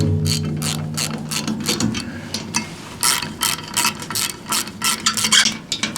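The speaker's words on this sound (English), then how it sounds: "Then we'll use the ratchet to crank them down." A hand ratchet cranks down bolts on a brush cutter gearbox hood, sharp clicking strokes repeating in quick irregular bursts close to the microphone, with no talking.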